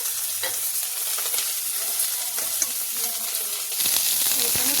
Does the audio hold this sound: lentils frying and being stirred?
yes